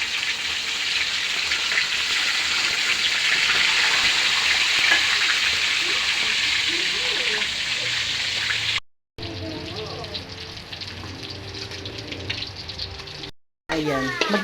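Bangus (milkfish) fries in hot oil with a loud, steady hiss and crackle that fills most of the clip, broken by two brief drops to quiet near the end.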